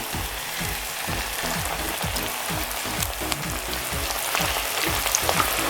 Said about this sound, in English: So when you're deep frying them, they usually achieve that crispy touch.